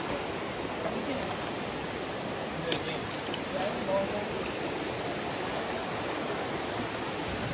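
A river stream rushes steadily along a waterfall trek to Curug Cisadane, a broad even wash of flowing water with a couple of faint clicks and no clear talk.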